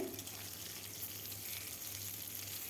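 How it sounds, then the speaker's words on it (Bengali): Pointed gourds (potol) frying in hot mustard oil in a pan, a steady close sizzle and crackle throughout with no talking. "পটলগুলো এখন ভেজে নেব"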